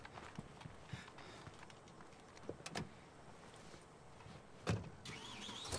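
Getting into a car in the State of Decay 2 video game: a busy game soundscape with a few sharp clicks and thumps, like a door handle and door closing, and a louder thump near the end, with no talk.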